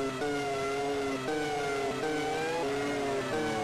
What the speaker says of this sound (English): Again, the engine sounds are so good.